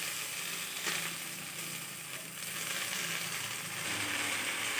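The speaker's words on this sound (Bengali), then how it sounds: "এবার আমি এখানে কেটে রাখা শাকগুলো দিয়ে দিচ্ছি।" Chopped water spinach (kalmi greens) goes into a hot pan of fried spices, giving a steady, close sizzle with a few soft scraping and stirring clicks.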